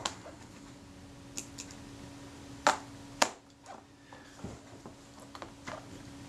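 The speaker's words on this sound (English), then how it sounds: "Let's release the shutter." Two sharp mechanical clicks a moment apart from a Kodak Retina IIc camera shutter releasing, crisp and close, over a faint steady hum, with a few softer ticks around them.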